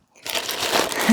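A plastic bag crinkles and rustles loudly up close as a Sea Eagle 370 inflatable kayak is pulled out of it, a short burst of crumpling starting after a brief silence.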